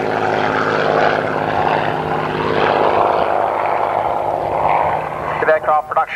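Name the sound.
Hawker Hurricane aircraft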